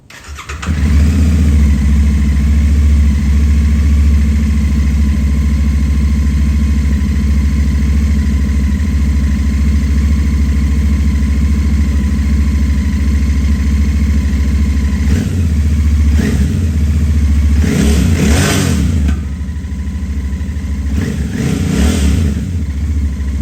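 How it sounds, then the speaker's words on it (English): Royal Enfield Bear 650 scrambler with a single two-into-one exhaust, idling with a steady deep grunty thrum close to the microphone, then revved in several sharp blips near the end. "The new scrambler type single pipe joining from both the heads, it looks too good and sounds very similar to the twins, a bit more grunty."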